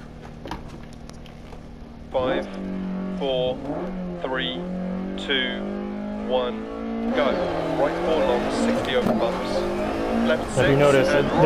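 A Lancia Evo 2 rally car in DiRT Rally revs hard and shifts through gears, engine note climbing and dropping repeatedly with rough surface noise beneath, loud and close, with someone talking over it.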